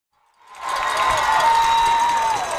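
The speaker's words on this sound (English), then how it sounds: "this Mingo crowd is getting fired up" A crowd at a high school football game between Point Pleasant and Mingo Central rises quickly from silence into loud, sustained cheering and applause, with a whistle sounding through the roar.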